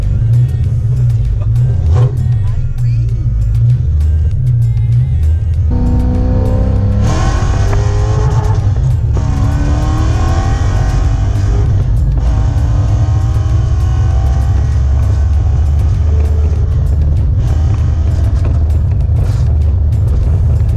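A Nissan S13 240SX engine revs hard through repeated pulls, its loud, rising and falling exhaust note close and continuous, with rumbling low end and faint wind and road noise throughout.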